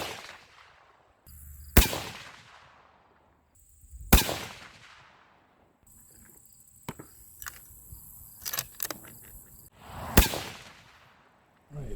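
Three loud, sharp rifle shots from a Savage Axis project rifle firing hand-loaded rounds, spaced several seconds apart, each cracking out and decaying into an outdoor backdrop of insect chirps and small clicks between them.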